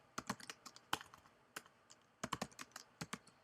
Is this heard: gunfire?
no